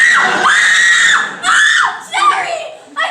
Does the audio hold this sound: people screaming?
yes